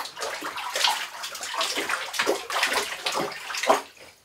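Water sloshing and splashing around in a bathtub as a person moves in it, a continuous near wash of moving water with irregular surges and a louder splash near the end.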